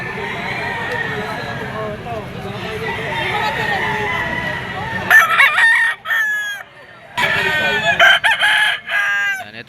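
Roosters crow loudly and repeatedly over a background of clucking chickens at a Saturday gamefowl market in Lipa, Batangas, with someone talking among the birds.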